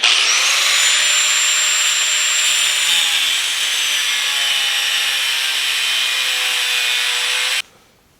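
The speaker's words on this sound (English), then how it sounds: "I will rough it out with an angle grinder." An angle grinder roughing out short pieces of metal stock for blacksmithing, a loud steady high-pitched grinding whine with shifting tones that cuts off abruptly near the end.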